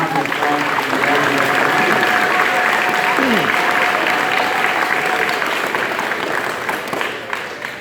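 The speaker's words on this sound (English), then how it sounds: "So let's have a great round of applause." An audience at a school award ceremony gives a sustained round of applause, loud and even throughout, with crowd murmur and a few voices underneath before it tapers slightly at the end.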